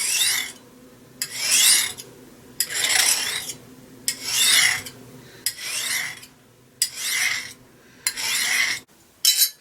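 A metal file rasps along the edge of a very dull knife at roughly a 23.5 degree angle, setting a new bevel; seven or eight long, steady strokes come close and loud, each separated by a short pause, with no talking.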